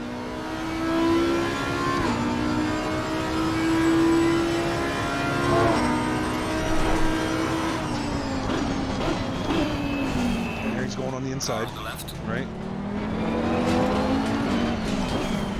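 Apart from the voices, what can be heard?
race car engines in sim racing video game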